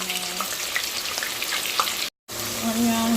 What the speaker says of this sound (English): onion, garlic and ginger, and I just have to do that right until it turns translucent.